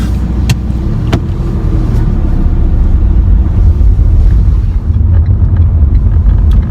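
Steady low engine rumble and road noise from inside a small-engined Renault Captur cruising along, constant and fairly loud with no talking.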